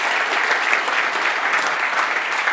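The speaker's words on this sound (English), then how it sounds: "A warm hand of applause." An audience at a regulatory deep-dive event in Amsterdam claps steadily, a dense even wash of applause that holds at a constant level throughout.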